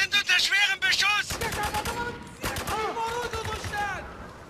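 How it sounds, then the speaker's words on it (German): Heavy automatic gunfire in the video game Spec Ops: The Line, with rapid bursts of shots and a loud, close firefight; someone talks over the shooting. "wir sind unter schwerem Beschuss"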